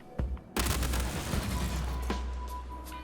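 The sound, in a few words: Quartz Energy SMG firing, Star Citizen video game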